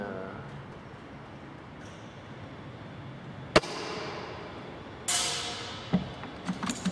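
A Well MB4410 airsoft sniper rifle, in stock original condition, fires two sharp single test shots a couple of seconds apart, each a crisp crack, followed by faint clicks of the bolt being worked over a quiet room hiss.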